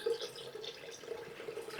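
Tap water running steadily into a sink or bucket while preparing a Thanksgiving turkey brine, a continuous close splashing hiss with no talk over it.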